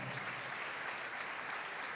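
Crowd clapping at the MTNPULSE Transform Summit 2022, a dense, continuous patter of many hands at moderate loudness, unbroken from start to finish.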